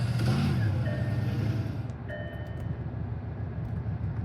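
A sports car engine starting up in the Greenville video game, a brief burst that settles into a low, steady idle rumble, fairly faint with a faint electronic tone layered over it.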